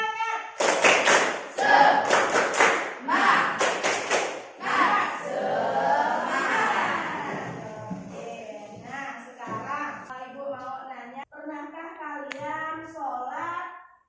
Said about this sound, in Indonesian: Ayo kita 1, 2, 3, tepuk semangat!